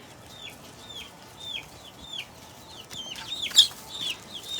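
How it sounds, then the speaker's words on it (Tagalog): Young chicks, already fairly big, give repeated high, descending cheeping calls at close range, several in quick succession, over a quiet background with a louder burst of clucking near the end. "Yung aking mga sisiw dito, medyo malaki-laki na rin sila."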